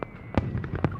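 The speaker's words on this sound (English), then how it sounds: "Fireworks explode outside, resembling jellyfish drifting in the sea." Fireworks bursting in the video game Love and Deepspace, a run of sharp pops and crackling blasts at uneven intervals, fairly loud and close, with no voices over them.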